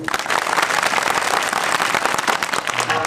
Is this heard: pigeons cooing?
no